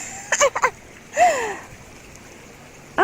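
Footsteps splash through a shallow woodland stream where a ruined bridge once stood, with a quick cluster of splashes followed by one longer wash of water, close and fairly loud, and another splash at the end.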